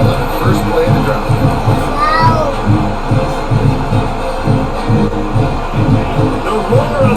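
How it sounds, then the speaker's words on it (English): A stadium crowd roars steadily in the College Football 26 video game, a dense, continuous wall of noise with a rhythmic low pulsing running through it the whole time. "The roar of the crowd trying to fuel this defense to keep them pinned in the ball."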